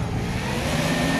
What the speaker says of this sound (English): Once again, this is a forklift Nissan